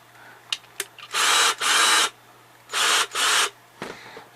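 Ryobi P1832 cordless drill whirring in four short bursts, two pairs of about half a second each with brief pauses between, close and loud, with small clicks and handling knocks around them.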